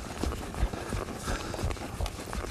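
Horse hooves clip-clop in an even walking rhythm while the horse is led toward a fence, soft and moderately near, with no talk.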